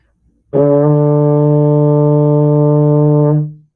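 One long D on a baritone horn begins after a short pause, a warm, steady brass tone held for about three seconds before fading out, close and unaccompanied.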